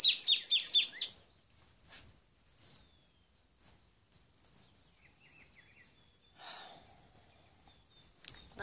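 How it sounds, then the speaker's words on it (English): Birds chirp and twitter in a quick burst of several calls, then scattered single chirps follow with long quiet gaps, heard clearly outdoors on a morning in Vilcabamba among green mountains. "There's so many birds."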